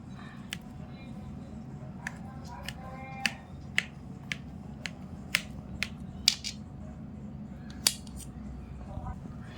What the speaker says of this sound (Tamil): உங்கள் முன்னாடி தான் நான் ஸ்லேஸ் போடுறேன்